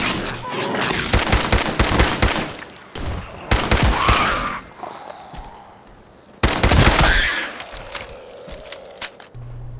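Bursts of gunfire in the Fallout 4 wasteland come in several loud rapid volleys separated by brief pauses, with quieter ambient stretches between them.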